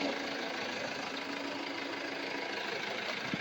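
A Pramac diesel generator engine idling steadily at a distance, a low even hum with a faint mechanical knock, muffled and constant.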